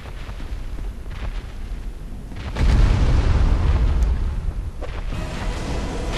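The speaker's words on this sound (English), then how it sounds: "so I got black fire bombs" Black fire bombs exploding in the video game Dark Souls, a sustained roar of booming blasts that swells sharply partway through and stays loud and dense with low rumble.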